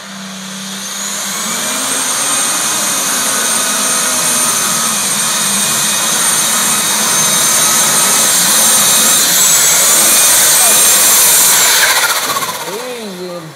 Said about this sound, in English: Multiple turbocharger, good running machine.